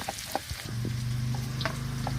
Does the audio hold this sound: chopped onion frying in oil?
yes